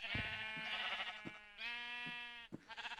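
Sheep in the Minecraft video game bleat several times in quick succession, clear and up front with short gaps, as a flock grazes in a field.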